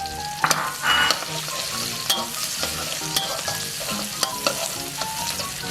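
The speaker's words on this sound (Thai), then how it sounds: "น้ำมันเริ่มเดือดนะครับ ใส่พริกลงไปครับ" Chillies and garlic fry in boiling oil for a stir-fried instant noodle dish, a bright continuous sizzle punctuated by sharp clicks and scrapes of stirring.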